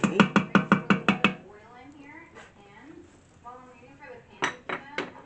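A metal pan is handled on a kitchen counter while cooking bean soup with sausage, opening with a quick run of about seven sharp clanks, then talk, then a few more clinks near the end.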